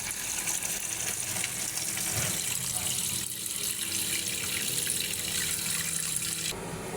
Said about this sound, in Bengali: এখন আমি আবারও ধুয়ে নেব।